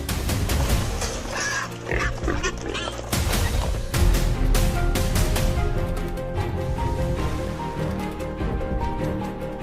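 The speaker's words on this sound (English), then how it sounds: "that would be the boar" A wild boar grunts and squeals loudly and close by in a rough, repeated series of harsh calls that continue for several seconds, mixed with noisy rustling and clattering and no talk.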